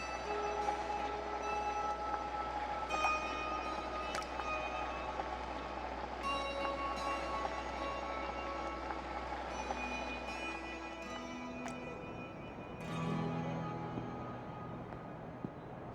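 A train pulls into a platform in Ecuador with a steady low rumble, bell-like tones and metallic squeals, then the engine drone cuts out and brakes hiss faintly.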